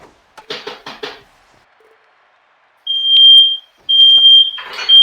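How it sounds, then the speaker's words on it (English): A smoke detector goes off indoors with loud, shrill, steady high-pitched tones in two long bursts, the second cut off briefly, after a few short, muffled thumps near the start. "We have a smoke detector going off."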